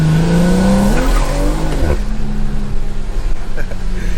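Tires on a Stage 2 BMW 340i spinning on a snowy road, a strained engine note climbing with wheelspin and skidding, close and loud, while someone talks over it.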